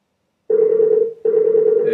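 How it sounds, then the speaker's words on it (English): A Skype call ringing tone from Skype 5 beta for Mac, a steady electronic ring playing twice, each long buzz separated by a short gap, clear and close. "It's ringing."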